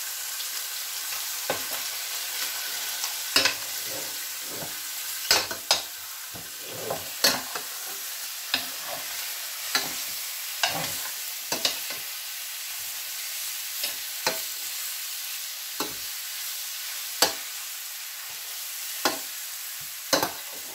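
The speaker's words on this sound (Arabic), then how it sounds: "والان غادي نمشي للدجاج اللي نصبت، نحركوه شويه" Chicken frying in a pan while being stirred, a steady sizzle with scattered scraping and clinking strokes of the utensil at an irregular rhythm, close and fairly quiet, no talking.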